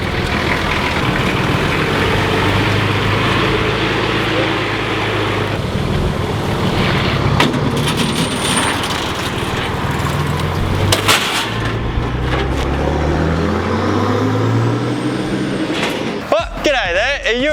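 Holden VL Turbo engine running hard on a dyno, a loud continuous drone with rising and falling pitch sweeps, revving up toward the end, with voices talking over it.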